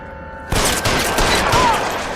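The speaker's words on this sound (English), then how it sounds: "Okay, that's just a machine gun." Sudden loud burst of machine gun fire in L.A. Noire, a rapid continuous rattle of shots starting abruptly after near silence and running without pause.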